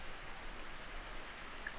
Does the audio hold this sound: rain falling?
yes